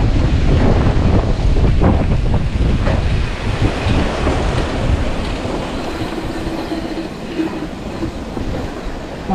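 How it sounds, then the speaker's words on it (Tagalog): Strong gusty wind buffeting the microphone at the Mount Parawagan view deck in Montalban, a loud low roar that is heaviest early and eases slightly while staying constant. "Lakas ng hangin."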